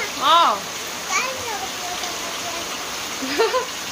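Steady rain hisses throughout, with a voice and an adult's voice talking briefly over it.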